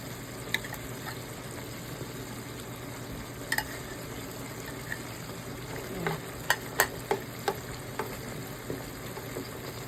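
Liver spread being stirred into food cooking in a pan, with a low steady sizzle and scattered scraping taps of a utensil, several clustered near the end.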